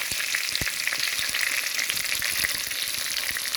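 Beef for a stew sears in a pot, giving a dense, constant frying sizzle with rapid crackles and pops. It stays loud and close the whole time, with no voices.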